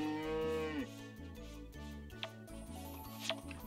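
Cows in Story of Seasons: Friends of Mineral Town let out a long moo while being milked, followed by game chimes and a few bright clicking effects.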